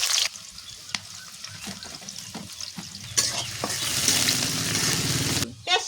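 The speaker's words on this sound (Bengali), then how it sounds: "দিয়া দিতেছি পেঁয়াজ কুচি" Chopped onions drop into hot soybean oil in a wok and sizzle loudly, with sharp spatula taps and scrapes and a bubbling hiss that swells as the frying picks up.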